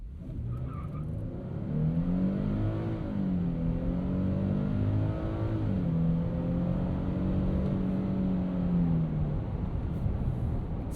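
A 2025 Nissan Frontier Pro-4X midsize pickup with its 3.8-liter V6 pulls from a roll through a 0 to 60 run, the engine note climbing steadily in pitch through the gears, loud and continuous from inside the cab.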